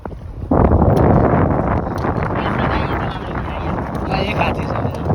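Strong outdoor wind buffets a microphone, loud and continuous rumbling gusts that start abruptly after a brief quieter moment and roar on steadily to the end.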